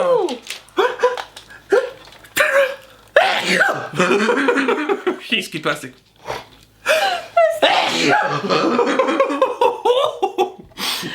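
A child sneezes sharply and close during a makeup session, a single abrupt burst set among lively chatter and laughter from several people.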